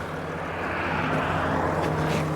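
A Mercedes-Benz GL350 engine with a boost leak and an intermittent crank-no-start and power-loss fault, revved up close: a loud, steady drone that swells slightly and holds high throughout.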